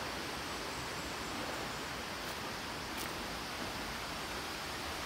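Tausuban Falls, a waterfall, pours in a steady, dense broadband roar that stays even and close throughout, with no voices over it.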